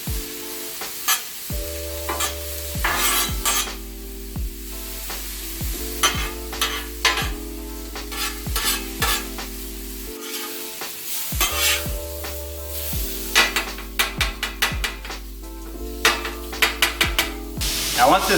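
Potatoes and sausage sizzle steadily on a 36-inch Blackstone griddle over low to medium heat, with repeated sharp scraping and stirring strokes of a metal spatula cutting through the frying hiss.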